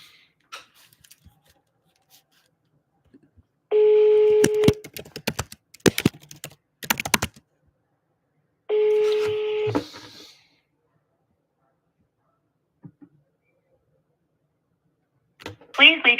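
A telephone number dialed on a phone for a solar sales call, with two clusters of steady dialing tones separated by clicking keypresses, loud and close, followed by a short burst of voice at the end.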